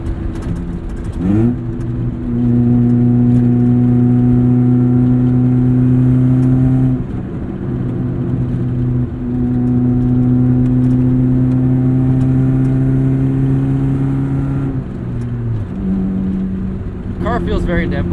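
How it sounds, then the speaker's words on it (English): Heard from the cabin while driving, a 1996 Saturn SC2 engine runs through repeated rev climbs and gear shifts, each rise held for several seconds before a brief dip. The engine drone is loud, close and steady. "Engine feels very similar to a Miata too in the way that it revs."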